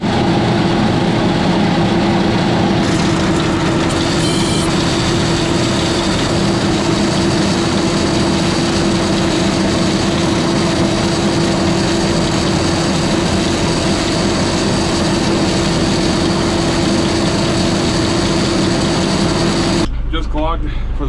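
A tractor engine drives an old haybine with the RPMs turned up, a loud, steady, close drone with a strong low hum that holds for about twenty seconds and then cuts off abruptly.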